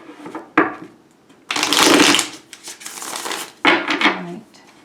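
Tarot cards are shuffled in several quick bursts, sharp papery riffles and flutters separated by brief pauses, close and clear with no talking.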